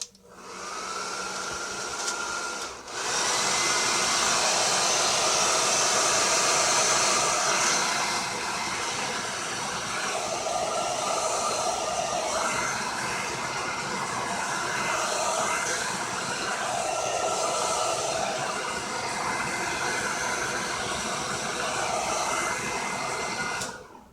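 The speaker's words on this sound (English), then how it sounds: "I have to cool down my blow dryer for it to work." A blow dryer dries paint on an altered book cover with a loud, steady whooshing roar that runs almost unbroken for over twenty seconds after a brief start.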